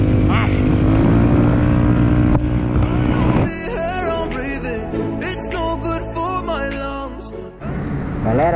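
Honda PCX scooter with a Stage 2 CVT, carrying a passenger on a road trip to the coast, its engine droning loud and steady throughout, rising and shifting in pitch as it accelerates, with wind rush over the ride.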